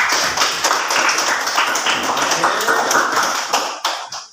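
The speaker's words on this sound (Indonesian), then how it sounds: "Tepuk tangan dulu." A classroom group claps together during a lesson, a close, loud burst of many hands clapping with sharp individual slaps, tapering into a few scattered claps at the end.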